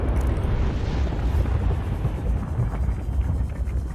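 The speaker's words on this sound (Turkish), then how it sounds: "Tekrar patlama." A deep explosion rumbles underwater in Subnautica Below Zero, a broad, steady low roar that fills the whole span without letting up.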